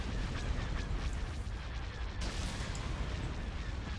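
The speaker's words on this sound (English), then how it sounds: "Velocity cannon firing." Rapid cannon fire from starfighters in the Star Wars: Empire at War space battle game, a dense, continuous barrage of booming blasts that stays loud throughout, with a sharp burst partway through.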